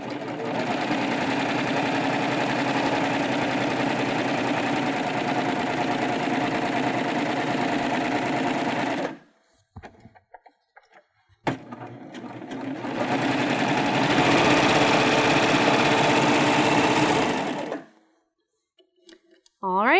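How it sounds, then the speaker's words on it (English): A serger overlock machine trims and stitches along a fabric edge while making a drawstring backpack. Its fast, even mechanical whir runs for about nine seconds, pauses briefly, then runs again for another five seconds. "Now that I've serged the top edge, I'm going to flip this over, and I'm going to do it for the front and the back."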